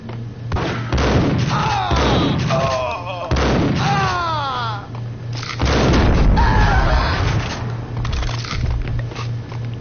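Gunfire and heavy booms from a PS4 video game ring out in repeated bursts, loud and close, under an animated in-game voice and game audio.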